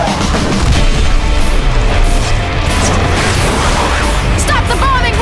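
Bombing run explosions in a Left 4 Dead 2 trailer form a continuous loud rumble of booms and crashing debris, with voices shouting over the din.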